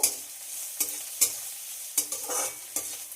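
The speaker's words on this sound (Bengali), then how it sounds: "পেঁয়াজটাকে একটু ভেজে নেব" Chopped onions frying with cinnamon and cumin, a soft sizzle broken by several sharp spatula scrapes and stirs spaced irregularly through the clip. No one speaks.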